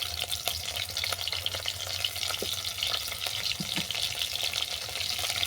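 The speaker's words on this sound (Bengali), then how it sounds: "লবণ হলুদ দিয়ে মাছটাকে ভেজে নিচ্ছি" Prawns frying in a pan with salt and turmeric, a steady dense sizzle and crackle throughout with occasional stirring knocks, close and loud, no voices.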